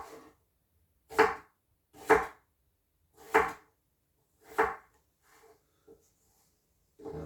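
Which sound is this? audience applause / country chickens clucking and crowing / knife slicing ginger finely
knife slicing ginger finely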